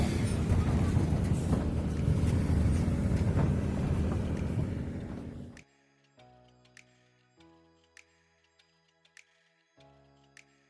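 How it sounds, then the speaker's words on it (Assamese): A ferry on the river between Jorhat and Majuli, bound for Nimati Ghat, gives off loud, steady engine and water rumble for about five seconds, then drops away to near quiet with faint scattered ticks. "এয়া আমাৰ ফেৰী চলিছে আৰু নিমাতী ঘাটলৈ"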